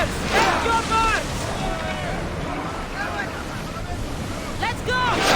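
Wind and surf roll steadily around a sailing ship at sea in Assassin's Creed Odyssey, a continuous rushing wash with crew voices shouting over it.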